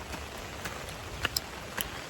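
Steady rain falls outdoors as a constant hiss, with a few sharper drips and taps on nearby surfaces standing out now and then, and no talk.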